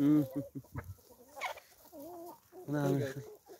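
Lohmann Brown chickens for sale cluck in short bursts, moderately close, with a few louder calls near the start and end and quieter gaps between.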